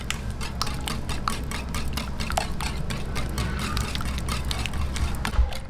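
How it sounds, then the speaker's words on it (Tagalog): Banana cupcake batter with evaporated milk and vegetable oil being mixed in a bowl, a utensil steadily clinking and scraping in a quick repeated rhythm over a low background hum, with no talk. "Lagay na po natin itong milk, evap milk, itong vegetable oil. Mix lang po natin ulit."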